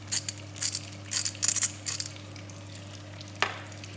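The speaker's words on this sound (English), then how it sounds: "in the same pan I cooked the potatoes. I put in the broccoli and the carrots." Broccoli and carrots tossed into a pan still hot from cooking potatoes sizzle and clatter, with a few sharp bursts of stirring near the start, then a steady low fry and one last scrape.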